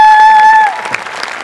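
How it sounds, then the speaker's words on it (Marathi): Applause from the studio audience of a Marathi comedy show bursts in right after a sustained musical sting. It is loud at first, then thins into scattered clapping that fades over a second or so. "जोरदार टाळ्या झाल्या पाहिजेत"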